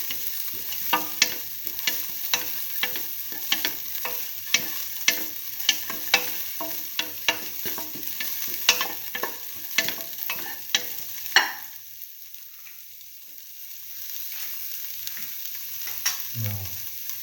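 Sauteing in a pan for mung bean tomato rice: a continuous close sizzle with regular spatula taps and scrapes for most of the span, then a quieter stretch of softer frying.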